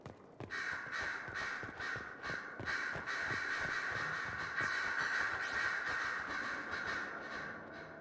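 Crows caw over and over in a steady rhythmic chorus in Dragon Age: Inquisition, set in the Exalted Plains, with dense overlapping calls on top of continuous ambient game noise.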